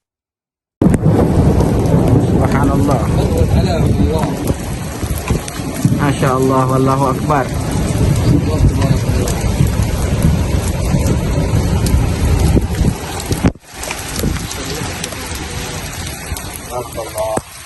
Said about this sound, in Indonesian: Jadi guntur tiba-tiba terdengar